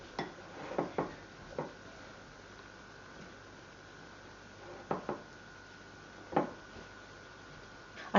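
Glutinous rice flour being mixed in a bowl gives scattered faint clicks and scrapes of a utensil against the bowl, a few irregular taps separated by quiet stretches.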